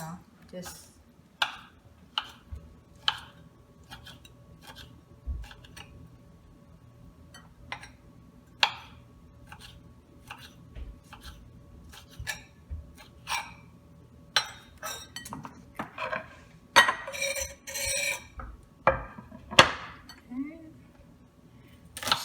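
Knife cutting a shallot on a board in a home kitchen, heard as a series of sharp, irregular clicks and taps with short pauses between them, fairly close, over a low steady background hum.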